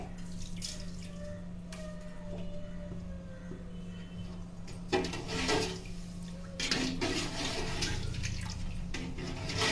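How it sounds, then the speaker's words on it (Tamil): A pot of salted water boils on the stove for a Chettinad mutton biryani with seeraga samba rice, giving a soft, steady bubbling and dripping, close and fairly quiet, with a few louder liquid surges. "நல்லா கொதிச்சிருச்சு"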